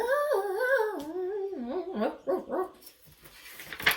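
A dog howls in a wavering, sing-song tone, rising and falling in pitch, then breaks into a few shorter yips.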